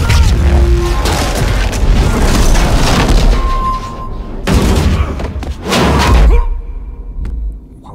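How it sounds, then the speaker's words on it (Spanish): Several heavy explosions boom in Mass Effect 3, loud blasts with rumbling tails arriving in quick bursts, separated by brief quieter gaps and a whooshing sweep. "Me acaba de dejar sordo en un momento con tres explosiones."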